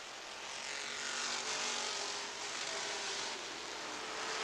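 American race trucks in the NSTC series race at Rockford Speedway in Illinois, a dense roar of several engines blending into one sustained drone at moderate distance, swelling and easing slightly with no voices.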